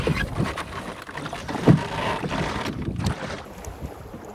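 A tiny two-metre boat sets off sailing on open water in Sweden, with wind buffeting the microphone, soft splashing and creaking against the hull, all fairly faint and unsteady.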